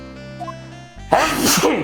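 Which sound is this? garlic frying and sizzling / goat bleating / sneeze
sneeze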